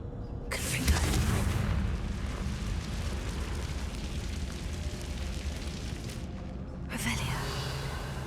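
A Confringo spell is cast in the Hogwarts Legacy video game, a fiery blast followed by a sustained roaring rumble, then a second burst near the end, with a voice speaking over it.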